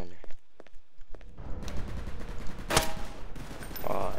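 Guns fire in the video game Garry's Mod during a cops-and-robbers match, sharp bursts and rapid cracks following a quiet opening, with a player's voice talking over the action.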